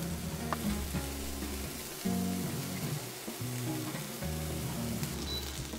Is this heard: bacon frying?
yes